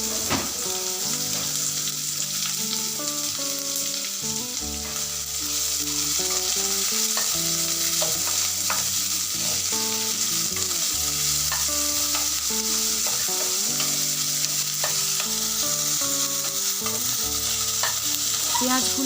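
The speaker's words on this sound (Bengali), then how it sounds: "আদা ও রসুন ভাজা হয়ে গেছে। এবার কুচনো পেঁয়াজগুলো দিয়ে দিলাম।" Chopped onions sizzle steadily in a pan after ginger and garlic for palak paneer, with the scrape of stirring throughout and a continuous tonal background like music underneath.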